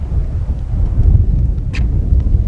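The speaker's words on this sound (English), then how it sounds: "Wind's blowing downhill." Gale-force wind roars and buffets steadily across a hillside golf course at Halifax Golf Club, blowing downhill, loud and close against the microphone.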